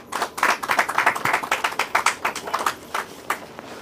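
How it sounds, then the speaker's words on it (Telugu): An audience claps in applause, a brisk run of many sharp hand claps at moderate volume that thins toward the end. "వారికి గట్టిగా చప్పట్లతో అభినందనలు తెలియజేయండి అమ్మా"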